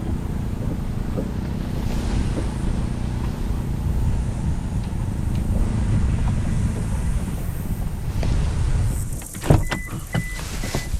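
A pickup truck drives along on a farm, its engine and road rumble steady and loud, with a brief knock and rattle near the end.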